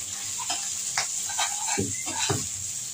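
Fish roe drops into a hot pan for a pui shak dish and fries with a steady, moderately loud sizzle, broken by several soft scraping stirs.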